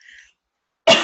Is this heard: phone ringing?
no